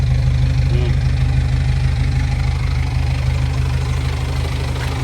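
An Isuzu pickup truck engine idles steadily nearby with a low, even exhaust rumble that holds constant throughout.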